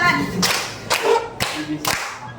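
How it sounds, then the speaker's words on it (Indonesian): Four sharp hand claps spaced about half a second apart, close and distinct. "tepuk tangan 1, tepuk tangan 2, tepuk tangan 3, tepuk tangan 4"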